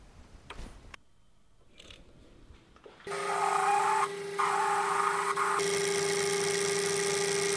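A drill bores a precise-depth hole in metal. It starts with a few faint clicks and handling noises, then a steady, loud, high machine whine runs without a break, with a brief dip partway through.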